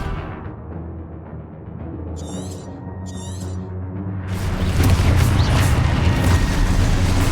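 Confringo, a fire explosion spell in the Hogwarts Legacy video game: a low rumbling hum builds, two brief high crackling bursts flash past, then a loud, broad roaring boom swells and sustains to the end.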